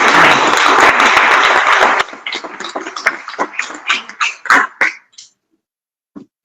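Audience applause at a political and economic forum fills the first two seconds, then breaks into scattered claps, coughs and throat clearing before fading to near silence.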